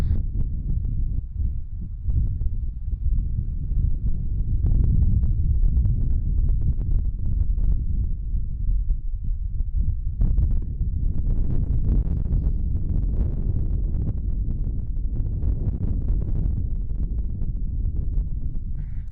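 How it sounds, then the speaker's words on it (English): Strong wind blows across a high mountain pass in the Ansel Adams Wilderness, buffeting the microphone with a constant low rumbling roar that swells and eases for the whole stretch, with no one speaking. "It's a bit breezy. My audio is probably not great"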